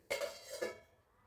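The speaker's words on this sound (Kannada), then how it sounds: "ಒಂದು ಪ್ಲೇಟ್ ಮುಚ್ಚಿ ನೆನೆಸಿ ಇಡ್ತಾ ಇದ್ದೀನಿ" A plate set down over a bowl of rice and green gram soaking for dosa batter gives two close ceramic clinks about half a second apart, then quiet.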